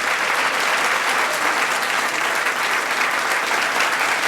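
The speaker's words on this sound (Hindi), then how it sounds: "आप लोगों की तालियों की गड़गड़ाहट बहुत कम है।" Sustained applause from a packed auditorium crowd at a talk show honouring actress Preeti Sapru, a thick, even wash of clapping hands with no break throughout.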